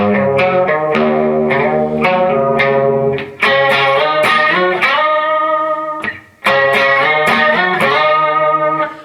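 Electric guitar with distortion and a chorus-like effect playing a riff variation with added octaves, a close, loud run of picked notes broken by two brief pauses.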